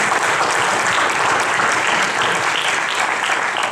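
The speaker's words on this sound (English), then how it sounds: "I think we should give another round of applause to Chief Iverson and the city" A room full of people gives dense, sustained applause to Chief Iverson, the city manager and fire department staff at a city council meeting. The clapping is loud and even and holds steady from start to finish.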